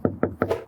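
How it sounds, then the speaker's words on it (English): Three crisp, close knocks on a fiberglass RV exterior panel during a tap test, evenly spaced about a fifth of a second apart, followed by a softer fourth tap. "you also want to do the tap test. What you're looking for is a crisp knocking sound."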